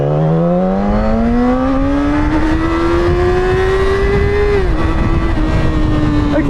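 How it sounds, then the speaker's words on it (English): A motorbike accelerates hard in first gear up to 60, its engine note climbing steadily and loudly, then dips sharply near the end before holding a high, strained whine. "how nice does the bike sound when you just accelerate at all hell?"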